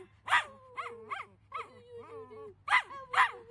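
A dog barks and yips in a quick run of short, close calls, with brief whimpering pauses between bursts, fairly loud against a quiet indoor background.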